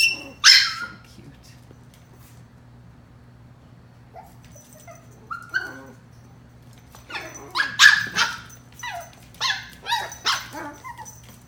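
Chihuahua puppies playing give out short high yips, barks and whimpers in scattered bursts, close by, between quiet gaps with low background hum.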